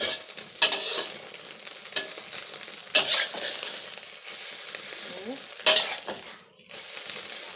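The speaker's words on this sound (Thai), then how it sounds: "ทอดไข่น่ากินจังเลย" Beaten egg for a Thai omelette fries in hot oil in a pan, a loud, crackling sizzle with periodic bursts of spattering and scraping as it is moved about.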